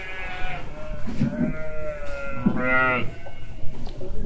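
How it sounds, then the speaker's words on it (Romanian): Sheep on a farm bleat in several long, wavering calls, loud and close, with other livestock noise and shuffling in the background. "Oile sunt afară."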